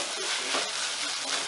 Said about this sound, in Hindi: एक बार इसे मिला लीजिए।